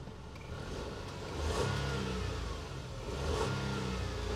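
A Nissan March's engine revs up twice, the roar rising and swelling each time before easing back, heard from inside the car.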